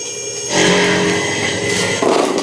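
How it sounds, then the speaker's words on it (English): A horizontal grinder grinds mill cutters in a shop, making a loud, continuous, harsh grinding whir that swells after a brief quieter start and carries on steadily, with no talking. "show you the nice new grinder set up horizontal and show you how I grind them real quick"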